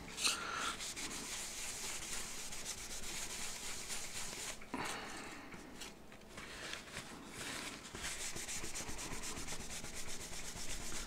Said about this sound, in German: jetzt werden wir mal mit Aceton das einmal wegwischen